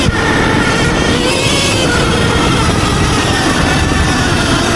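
A fully upgraded Sur-Ron electric dirt bike rides fast in mode 3, giving loud, continuous close-up rushing drive noise and wind buffeting throughout, with no break and no talk.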